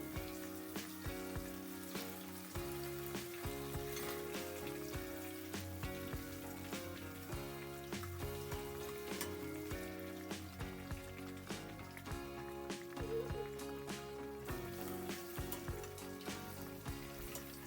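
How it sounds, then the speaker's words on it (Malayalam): Banana fritters fry in oil over medium heat with a steady, faint crackle and sizzle that runs throughout, broken by small pops and spatters. "പഴത്തിനെ നമുക്ക് തിരിച്ചു മറിച്ചിട്ടൊന്ന് ഫ്രൈ ചെയ്തെടുക്കാം"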